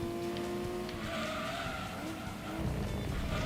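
A race car in Gran Turismo 2 brakes hard into a corner. Its engine whines and its tires squeal and skid, loud and close, for a few seconds.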